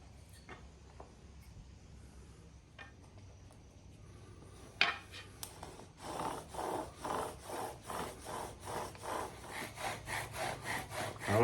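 A bow drill burns in against a fat wood bearing block, starting with a few faint clicks and setup taps, then a loud rhythmic back-and-forth sawing squeal of steady strokes close by.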